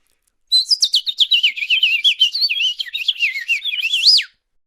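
A voice imitates a house finch's song as a rapid, loud run of high warbling chirps and twittering notes lasting about four seconds, clear and close, with no talking.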